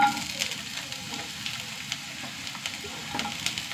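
A large chopped onion sizzling in hot coconut oil in a pan, a steady crackling fry with small pops throughout, close and even.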